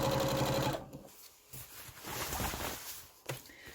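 A sewing machine stitches a 2 cm seam along the folded edge of Roman blind fabric, giving a steady, close mechanical whir for under a second before it stops, followed by quieter handling noise.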